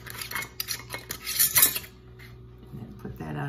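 A flat metal canning lid clinks and scrapes onto a jar up close, a few quick rattling taps followed by a brief rasp, then quieter handling sounds.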